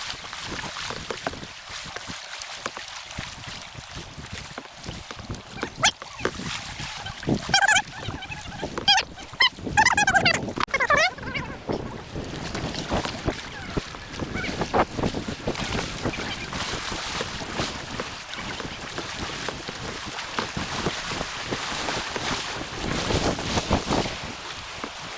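A kayak surfs a standing river wave at MD Chutes, with rushing whitewater roaring steadily up close and gusts of wind buffeting the microphone throughout.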